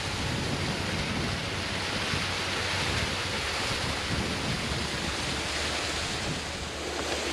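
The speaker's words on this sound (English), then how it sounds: "now we're on the King Edward River and this waterfall called Manuru" Manuru waterfall on the King Edward River along the Gibb River Road pours in a loud, continuous broadband roar of rushing water that fills the whole stretch without pause.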